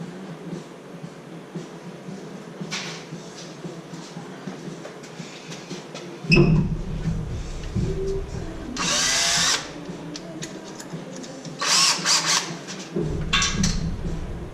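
Power drill (DeWalt) boring metal near the valve covers of an LS-powered Camaro during turbo fabrication, with short close whirring bursts of the drill over a low background hum and some handling clatter.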